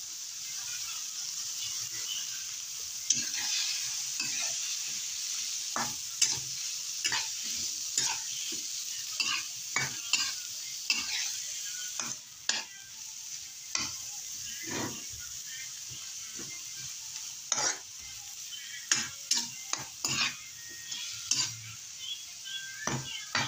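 Chayote sizzles in a hot frying pan while a utensil stirs and scrapes, with clattering metal knocks scattered irregularly over a continuous soft frying hiss, close and moderately quiet.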